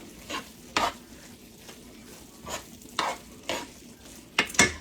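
Loaded nacho cheese dip mixed with salsa is stirred with a utensil in close-up, giving several short, separate scraping and squelching strokes at an uneven pace, with no voices.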